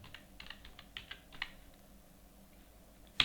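Typing on a computer keyboard in Tally Prime accounting software: a short burst of soft, close key clicks, then quiet, ending with one sharper keystroke.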